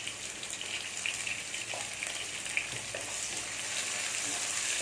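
Chopped onions sauté in ghee for a Hyderabadi chicken kurma, a soft continuous sizzle with a few faint stirring taps, steady and fairly quiet.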